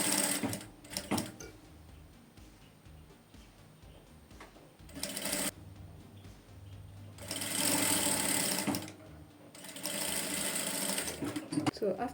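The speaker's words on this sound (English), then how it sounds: "So after sewing the half inch, look at what we have." Sewing machine stitching a half-inch hidden button placket in contrasting thread, with several runs of fast, rattling stitching of varying length between quieter gaps, close by.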